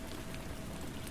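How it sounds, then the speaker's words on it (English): Steady rain falls against a bathroom window, a soft, even patter of drops that stays constant and fairly quiet throughout, with no voices. "The soothing sound of raindrops tapping against the bathroom window provided a melodic backdrop"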